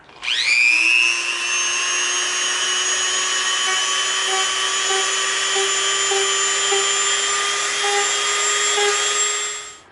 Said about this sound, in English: now we've got our super rough Dremel bit on, and we're gonna come in and we're just gonna clean up this tiny little edge right here